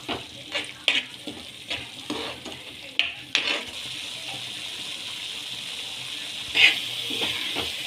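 Onion-chili and garlic-ginger paste being stir-fried in a pan for spinach egg curry: a steady close sizzle with repeated scraping spoon strokes and a sharper clatter near the end, no speech.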